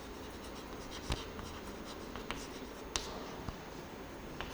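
Chalk or a marker writes on a board in a soft, continuous scratchy stroke with a few sharp taps, faint and distant over room noise, with no voice.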